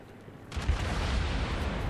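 Heavy cruiser-style naval gunfire in World of Warships, a sustained booming rumble that kicks in halfway through and rolls on loudly without a break, as if from a salvo fired at a tier 4 Karlsruhe cruiser.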